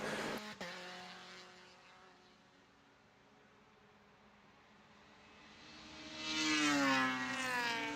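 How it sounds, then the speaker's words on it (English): Race cars braking into the corkscrew at the museum turn of Barber Motorsports Park during an SCCA Hoosier Super Tour race, a sustained engine drone fading then swelling loudly as a car draws near and passes. "Holds off Taylor once again into this braking zone for the corkscrew at the museum turn."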